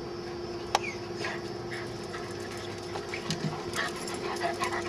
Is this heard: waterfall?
no